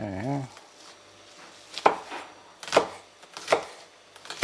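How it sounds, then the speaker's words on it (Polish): Knife chopping onion on a cutting board for egg fried rice: four sharp, close knocks spaced irregularly, with a short burst of voice at the very start. "Teraz pokroimy sobie cebulkę."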